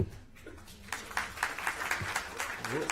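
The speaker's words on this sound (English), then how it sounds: "yes, clap for that." An audience at a school recognition meeting claps, scattered individual claps building into a modest round of applause, fairly quiet and a bit distant.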